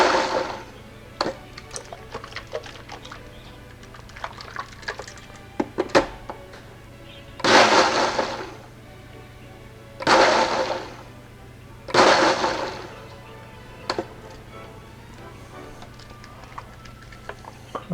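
A countertop blender gives three short pulses mixing rehydrated freeze-dried eggs, each burst a loud whirring roar of about a second, separated by quiet kitchen clatter and small knocks.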